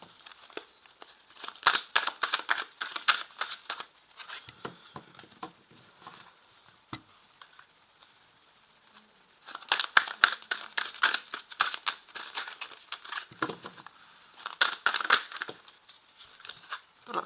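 Tarot cards shuffled, slid and laid out on a table in bursts of crisp close papery patter and flicks, with quieter pauses between handling.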